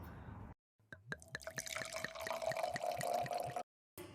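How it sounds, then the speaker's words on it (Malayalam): Water pours in a stream into a funnel of a Clementoni Pen Creator Studio kit, with rhythmic gurgling glugs, starting and stopping abruptly, close and fairly quiet. "ഇനി ഇതിലേക്ക് നമുക്ക് കുറച്ച് വെള്ളം ആഡ് ചെയ്യാം"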